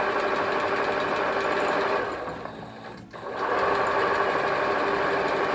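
A sewing machine back stitches through fabric in a steady, close mechanical whir. Partway through it slows and stops for a moment, then starts running again at full speed.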